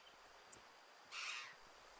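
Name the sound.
bird calls in the video game Way of the Hunter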